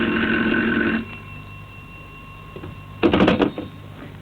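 A telephone rings, an old-style bell trill in two bursts separated by a quiet pause, moderately loud and close, with a steady electrical hum underneath.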